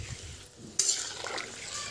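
Spoon stirring olive pickle spices with jaggery in a pan, a few soft scraping strokes and a brighter scrape midway, with faint sizzling underneath.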